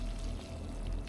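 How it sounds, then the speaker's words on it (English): Watering can pouring water onto plants in the video game Clap Clap, a soft, steady trickling wash heard close and unbroken, with no talking. "Water, water, water the plants."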